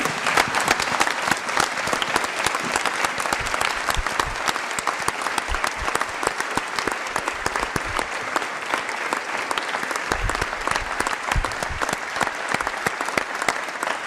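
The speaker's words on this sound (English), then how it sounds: "rise with a wild round of applause for all of these institutions and organizations" A large audience at a launch event breaks into sustained, dense applause, clapping loudly and steadily for many seconds without letting up.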